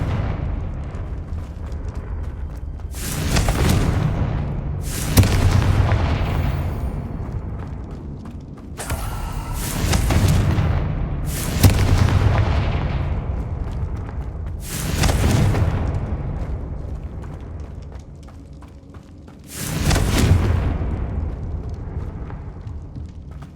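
Repeated Confringo fire-spell blasts in Hogwarts Legacy, five or six heavy booming bursts spaced a few seconds apart, each with a sharp crackling onset and rumbling decay over a steady low game ambience.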